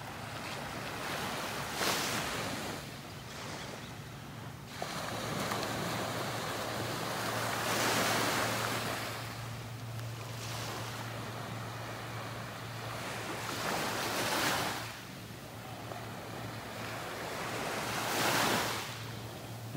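Ocean surf rolls onto a beach in North Naples, Florida, with swelling wave washes that come and go every few seconds, mixed with steady wind rumble on the microphone and no voices.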